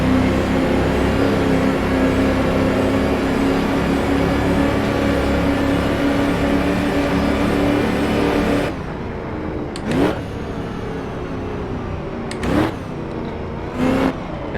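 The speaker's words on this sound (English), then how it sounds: "Hear the whine of that supercharger." A supercharged 1936 Mercedes race car engine howls loudly and steadily with a high whine at Donington Park in Assetto Corsa, then drops away and returns as brief sharp revving bursts during gear changes.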